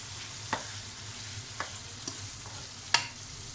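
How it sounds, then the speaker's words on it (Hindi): Chicken karahi masala sizzling steadily as it fries in a pan, with a few sharp scrapes and clinks of a spoon stirring it, close and continuous with no talk. "ये मैं इसमें थोड़ा सा इसे पहले फ्राई कर लेती हूँ।"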